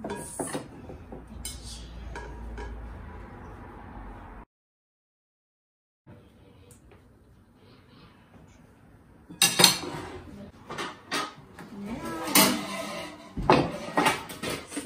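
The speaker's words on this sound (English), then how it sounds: "You have to mix it with a spoon." A spoon stirs chocolate chip cookie dough made with vanilla, giving irregular close clinks and scrapes against the bowl that stop for a short silent gap, then return louder and busier.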